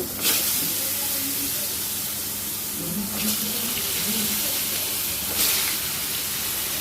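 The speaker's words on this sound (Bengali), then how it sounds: "কেটে রাখা আলু আর ঝিঙেটা তেলের মধ্যে আস্তে করে ছেড়ে দেব" Cut potato and ridge gourd slide into hot oil tempered with nigella seeds, making a steady, close, broadband hiss with brief louder surges as pieces hit the pan.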